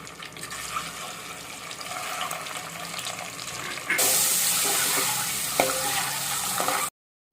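Boiled eggs dropped into hot oil with turmeric give a steady sizzling hiss that jumps louder and brighter halfway through, close and continuous, then cuts off at the end.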